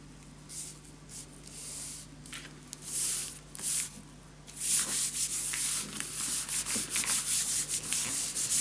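Paper is burnished down by rubbing during scrapbooking: repeated short scratchy strokes, close and soft at first, then faster and denser, with no talking.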